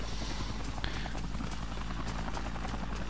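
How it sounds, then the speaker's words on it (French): In the video game Dead Rising, a helicopter's dense rotor thudding fills the whole stretch, loud and continuous, with rapid rhythmic chopping beating steadily under the noise. "Ah, satané hélicoptère."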